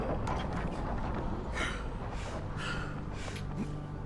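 Heavy, ragged breathing in Dying Light 2 rasps in repeated gasps and snorts, quiet and close, with no talk over it.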